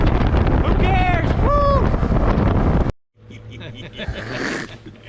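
Gusts of 15 to 20 miles an hour buffet a fishing boat on open water, with loud rumbling wind noise that cuts out abruptly partway through and then returns more quietly alongside a low engine hum.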